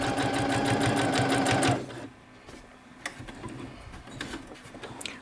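A sewing machine runs in a rapid, rhythmic stitching chatter along an outline on fabric for under two seconds, then stops, leaving faint clicks and handling noises.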